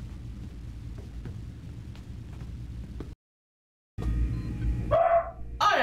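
Dogs bark a few times, close by and fairly loud, toward the end after a short silent gap, over a steady low background rumble.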